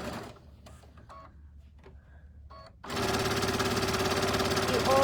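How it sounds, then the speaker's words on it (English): Sewing machine stitching down both long edges of a fabric cinch bag, starting abruptly partway through with a loud, steady mechanical whir after a quieter stretch with faint speech. "we are now going to stitch down both long edges."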